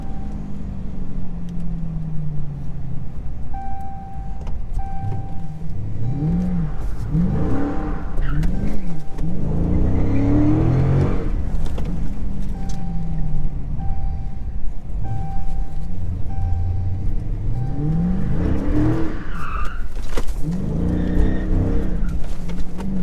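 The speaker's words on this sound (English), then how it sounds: "I can drift corners way smoother than an orange car though." A Dodge SRT engine revs and surges in repeated waves while the car drifts through turns, with rising and falling whines and steady road and cabin noise heard from inside.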